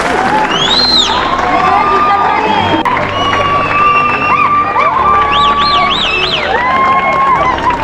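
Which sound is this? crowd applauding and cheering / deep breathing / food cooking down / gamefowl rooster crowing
crowd applauding and cheering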